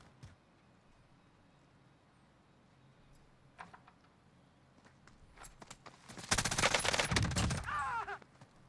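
AMG weapon gunfire in Warzone, faint scattered shots and clicks first, then a loud rapid burst of automatic fire lasting about two seconds near the end, alone without talk.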